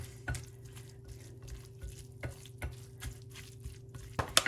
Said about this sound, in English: we're going to stir this up, get all that incorporated